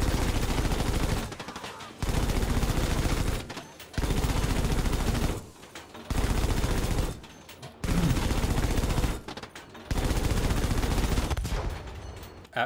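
A Flakpanzer anti-aircraft gun in Battlefield V fires in long sustained bursts, about six of them, each lasting roughly one to two seconds. The bursts are loud and close, separated by short gaps.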